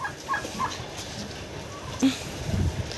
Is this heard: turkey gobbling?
yes